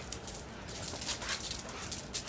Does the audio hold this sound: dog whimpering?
yes